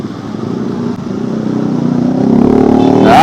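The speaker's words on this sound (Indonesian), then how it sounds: "di belakang kita ada motor yang cukup berisik ya guys" A noisy motorcycle engine rumbles close behind on the road, growing steadily louder as it revs and approaches, with no talking.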